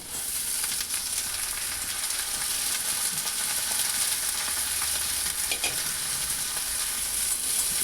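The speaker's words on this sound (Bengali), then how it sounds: "এবার আলু আর পেঁয়াজকে খুব ভালোভাবে নাড়াচাড়া করে নিয়ে একটু ভাজা ভাজা করে নিয়ে" Potato and onion stirred and fried in a pan, a steady, loud hiss of sizzling oil with scraping spatula strokes running continuously throughout, no voices.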